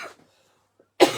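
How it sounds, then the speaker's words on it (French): A single sharp, close cough bursts out after a near-silent pause, loud and brief, during a paper-folding craft session. "vous allez m'entendre tousser tout le long."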